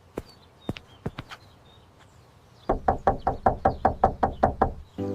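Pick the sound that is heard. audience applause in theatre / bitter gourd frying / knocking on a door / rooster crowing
knocking on a door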